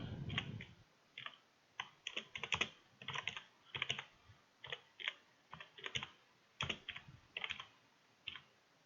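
Computer keyboard typing as data is entered into a spreadsheet: irregular bursts of close, crisp key clicks with brief pauses between runs, no voices.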